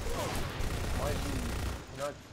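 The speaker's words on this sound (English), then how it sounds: "guess what I found? A Gatling gun. I can shoot." Gatling gun fire in the video game Lost Planet 2, a dense continuous burst of rapid shots layered with game music and effects, with talk over it.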